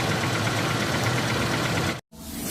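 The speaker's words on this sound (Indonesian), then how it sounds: "suara mesin sebelum dan sesudah dilakukan gurah engine" Car engine idling after an engine carbon cleaning treatment, a steady even rumble that cuts out briefly near the end before the idle resumes.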